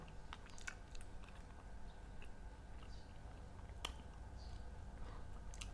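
Someone chews and bites food close to the microphone with faint, wet crunching and small clicks repeating steadily. The sound stays quiet under a low background hiss, with no talking.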